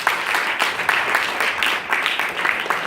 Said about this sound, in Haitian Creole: Applaudis, applaudis,